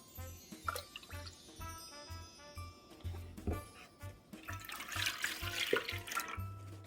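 Water, mixed with milk for a lemon cake batter, pours steadily into a bowl, a gentle splashing that swells toward the end with no talking.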